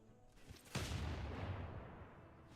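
Gunfire in the strategy game Civilization 6, a loud boom followed by rumbling, rolling volleys that fade slowly, with no talking.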